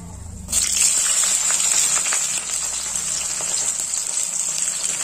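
Onions drop into hot oil in a pan with chilies already frying, setting off a sudden loud, steady sizzle that hisses on evenly without a break.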